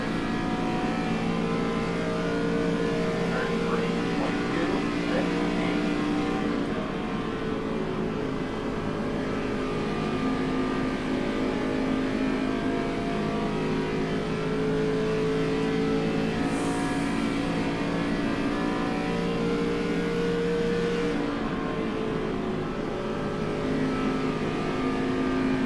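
Continuous engine drone from an ARCA race car running laps on a track, a steady buzzing roar with sustained tonal whine that shifts slightly in pitch, heard from inside or close by, unbroken and without talking.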